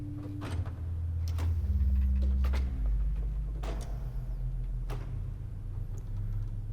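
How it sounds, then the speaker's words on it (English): The 16-foot Bourdon pedal stop of the pipe organ at Old St. Patrick's Cathedral in New York sounds deep sustained bass notes that shift pitch, with scattered knocks and clicks from the instrument or room over them. "And the burden 16 foot sounds like this."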